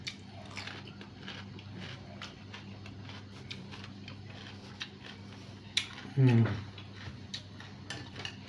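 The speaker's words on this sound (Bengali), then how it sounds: "হাতে একটু আপনারা টমেটো কামড় দিতে পারেন।" A crunchy bite into a fresh tomato during a meal of beef curry with white rice, one short close crunch and chew heard under a voice talking.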